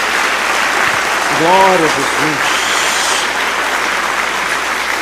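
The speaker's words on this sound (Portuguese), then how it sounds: "Dê uma salva de palmas ao Senhor." Church congregation applauding steadily throughout, a broad continuous wash of clapping with a voice calling out briefly over it.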